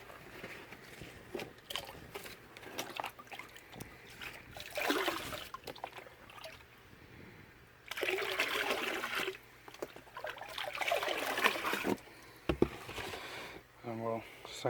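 Water trickles and splashes from the jets of a garden koi pond, swelling in louder surges and easing off, with a person talking intermittently over the flow.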